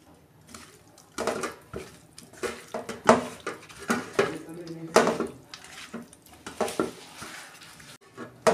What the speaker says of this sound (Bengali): এবার নুন হলুদ মাখাবো।